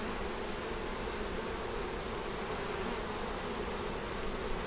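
Honeybees in an open hive under inspection, near a swamp, hum in a dense, continuous close-up buzz that stays loud and even from start to finish.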